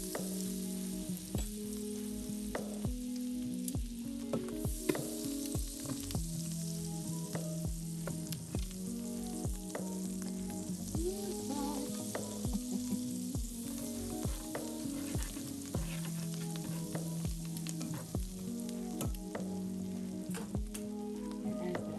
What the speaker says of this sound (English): we're going to take some of our Kerrygold butter. We're gonna let that melt. And get all those flavors from our beef.